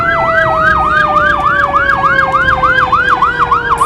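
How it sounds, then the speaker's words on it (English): An ambulance siren wails in a steady, fast rising-and-falling cycle, loud and close, heard from a vehicle during illegal towing, with a second steady tone and road noise underneath. "police car, ambulance."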